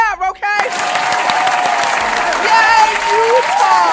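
A crowd breaks into loud, sustained applause with clapping and a few cheers, after a short voiced call at the very start, continuing at full strength throughout.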